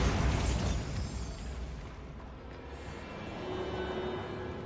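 Bombarda blasting spell explosion in Hogwarts Legacy, a loud, sudden booming blast that bursts out at once and then decays into a rumbling, crackling tail.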